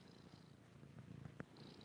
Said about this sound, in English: Let's see if we can hear him.